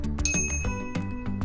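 Quick bright dings come from the bell on an FLX Babymaker bike, struck several times in a row up close with no voices.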